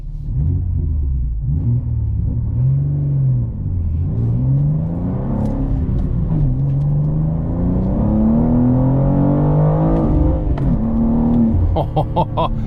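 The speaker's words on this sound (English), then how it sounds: "it has automatic rev matching, so it just makes it sound really cool when you're driving" A 2023 BMW M2 engine pulls loud and close through the gears, its pitch climbing and dropping with each automatic rev-matched shift, then settling into a steady rising drone with a faint whir on top.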